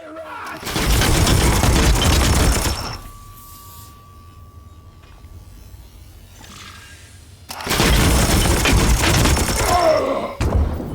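Sustained bursts of automatic gunfire from the video game Chaos Gate Daemonhunter, loud and dense, in two long volleys separated by a quieter stretch with a faint steady tone.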